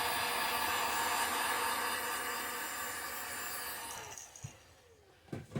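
A heat gun blows a steady, loud whooshing roar while heat-setting paint on a bluegill-pattern fishing lure, then cuts off, leaving a few faint clicks and handling knocks.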